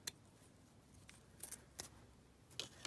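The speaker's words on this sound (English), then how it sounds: "Let's just, again, cut some lace down." Scissors snipping through lace for a paper craft pocket, a few quiet, separate crisp cuts spaced over a faint, hushed background.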